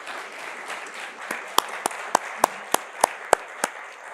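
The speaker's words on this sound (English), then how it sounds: "So a big round of applause for Silla." At a data science seminar prize announcement, a soft wash of applause thins out into a string of sharp, evenly spaced single claps from fairly close, fading toward the end.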